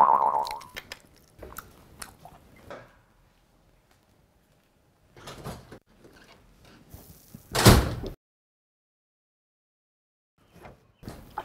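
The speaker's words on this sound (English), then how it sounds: "You shocked me the way you opened the door." A door opening indoors in a family home, heard as several scattered knocks and thuds followed by one loud, sharp bang near the end, then quiet.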